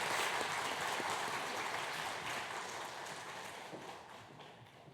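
A church congregation gives soft, dense applause after a baptism during a Sunday service. The clapping is heard at a distance and blends into a steady wash that slowly fades.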